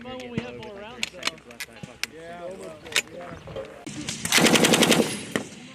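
US Marines fire M240B machine guns during platoon defense drills, with single shots and short sharp bursts ending in a sustained loud burst of rapid fire, while voices call commands between shots.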